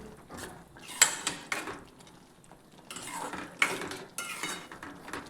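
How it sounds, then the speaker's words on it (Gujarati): A spoon stirs masala in a cooking pan for a Gujarati vegetable dish, giving close, irregular clinks and scrapes of metal against the pan over a soft background. "હવે તેને સારી રીતે મિક્સ કરી દઈએ."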